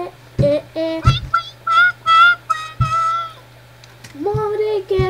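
A cat meows in a video game, a run of close, fairly loud, tonal mews of varying pitch over a steady low electronic hum.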